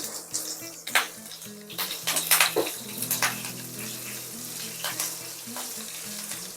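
Cumin seeds and green chillies crackle in hot oil for a fasting-day potato dish, with bursts of sizzling and pops plus a few spoon and pan clinks close by, no speech.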